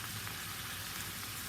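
Steak pieces fry in a pan for bistec con papas, a loud, continuous crackling sizzle that stays even and close throughout with no voices.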